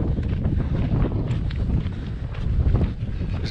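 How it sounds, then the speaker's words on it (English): Wind gusting across the microphone on a mountain trail along California's Backbone Trail, a loud continuous rushing buffet that swells and eases throughout. "You can hear the wind"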